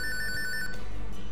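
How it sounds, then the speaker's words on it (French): A synthetic telephone ring from the video game Mariner (800 Fathoms) trills rapidly in a short burst, then cuts off under a low background rumble. "c'est le téléphone."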